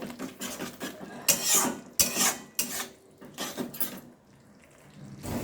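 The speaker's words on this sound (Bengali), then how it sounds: "এবার আমি ভালোভাবে মশলাটা একটু কষিয়ে নেব।" A spoon scrapes and stirs spice masala frying in a pan for fish curry, giving irregular rasping strokes with sharper clanks against the metal, close and fairly loud with no talking.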